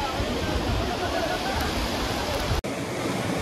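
Muthyala Dhara waterfall heard as a steady, loud broadband rush of falling water, continuous throughout with one very brief dropout near the end; no voices.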